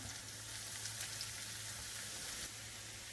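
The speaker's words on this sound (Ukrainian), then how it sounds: "Цибульку томимо до прозорості і відправляємо моркву." Onion and carrot sauté in a pan, giving a steady, soft sizzle and crackle of frying vegetables that holds even and close for a few seconds before easing slightly.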